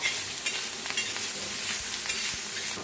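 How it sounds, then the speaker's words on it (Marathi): Green chillies fry in a pan with a little coriander, giving a steady, close sizzle and crackle with occasional stirring scrapes and no voices. "तर मिरच्या छान भाजल्या"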